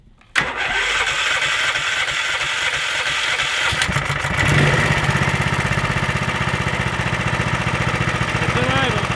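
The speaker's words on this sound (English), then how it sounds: "It's in idle." A 420cc ATV engine idles in neutral, starting with a sharp catch and then holding a steady, loud, even low throb close to the mic for the rest of the stretch, with no talk over it.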